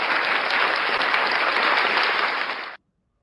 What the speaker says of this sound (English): Let's give you a little applause